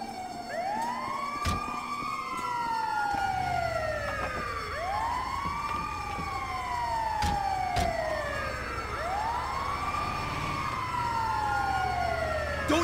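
An ambulance siren in Grand Theft Auto V wails continuously in repeating rising-and-falling sweeps, loud and close over a low vehicle rumble, with a few sharp clicks and thuds breaking through.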